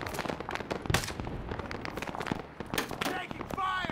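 Enemy rifle gunfire in a video game, with sharp cracks and pops going off irregularly under and between voices talking.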